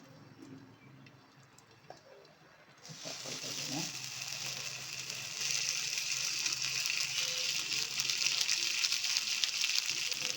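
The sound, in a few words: marinated green fish frying in hot oil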